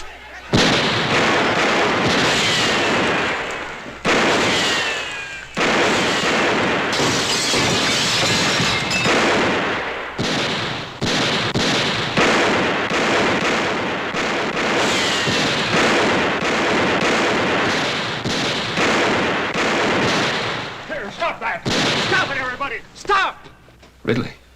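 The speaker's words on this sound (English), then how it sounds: "Let's put a few shots over their heads." Gunshots fired over a crowd's heads in an old Western town outside a jail, a series of sharp cracks and bursts running throughout amid shouting voices and a busy, loud scene.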